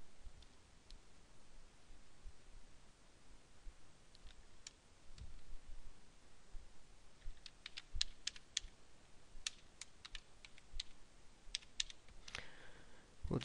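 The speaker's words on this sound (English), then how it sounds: "we'll just type in Pink Floyd" Keys clatter on a computer keyboard as text is typed, in a quiet run of soft, irregular clicks that grows denser and busier toward the end; no one speaks.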